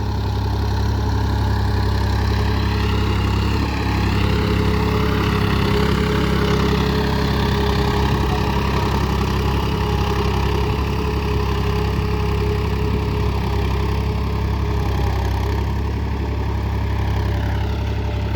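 A Massey Ferguson 5245 DI tractor working a five-point cultivator on a farm, its diesel engine droning at a steady, loud, close pace throughout with a low, even rumble and no talk.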